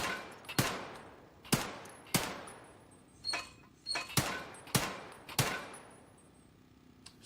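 Gunfire in Escape From Tarkov: sharp, loud single shots spaced about a second apart, roughly seven in all, each with a quick decaying echo, plus some fainter clicks and metallic handling sounds between them.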